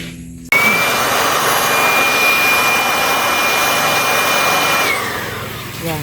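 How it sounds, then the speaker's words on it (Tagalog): An electric blower starts abruptly and roars loud and steady, blasting dust out of a hole drilled in a post. A thin whine rides over the rushing air before it begins to wind down near the end. "Yan, tapos na i-blower."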